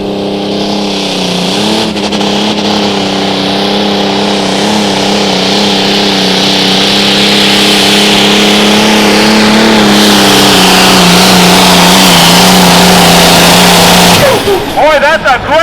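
A pulling tractor roars through a tractor pull run at a truck and tractor pullers event in Cuba City, Wisconsin, its loud engine drone sustained and steady for about fourteen seconds before cutting off abruptly, with faint crowd noise beneath.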